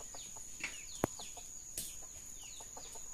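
A flock of chickens clucking close by, repeated short clucks and chirpy calls in an irregular rhythm, with a sharp knock at one point and no talking.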